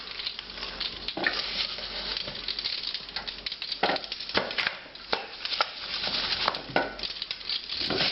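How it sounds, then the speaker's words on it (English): Lamb frying hard at high temperature in sunflower oil for Georgian kharcho soup, a dense, steady sizzle running throughout with scattered crackles, spits and occasional scraping or stirring taps from the pan. "before we begin frying this at a high temperature"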